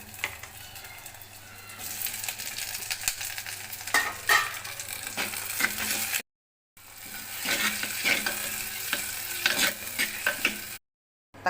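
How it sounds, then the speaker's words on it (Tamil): Tomatoes, shallots and curry leaves sauté in a pan: continuous close sizzling with repeated stirring scrapes, cut by two brief silent gaps. "தக்காளி வதங்கிட்டு இருக்கட்டும்"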